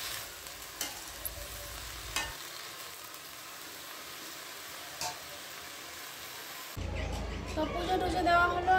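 Greens fry in a pan on a village kitchen stove, a steady soft sizzle running throughout with a few sharp stirring clicks, growing louder and busier near the end.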